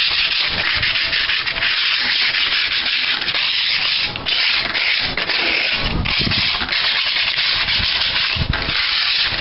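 Paint on a steel wheel rim from a 1975 Dodge D100 is rubbed out with a steady, close, hissing scrub that continues alone, with a few brief breaks in the strokes.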